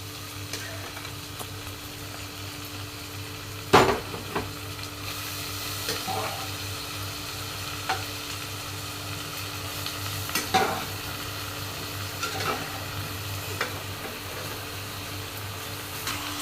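Mutton pieces being stirred in a cooking pan for mutton gravy, a steady soft sizzle with occasional scraping and clinking of the spoon against the pan, no speech.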